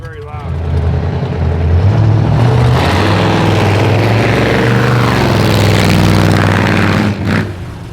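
A 1938 Ford rat rod with a Cadillac engine, on Forgiato wheels, roars loudly and close as it revs and pulls away, a heavy sustained drone with people talking over it.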